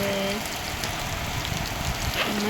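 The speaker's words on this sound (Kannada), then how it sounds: "ಈಗ ಮಳೆ ನೋಡಿ ಎಂಥ ಮಳೆ" Steady heavy rain hisses across the whole clip, a dense, even wash of noise with occasional louder drops and faint background sounds.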